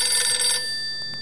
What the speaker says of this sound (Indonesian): Ada yang telepon? Kita angkat dulu.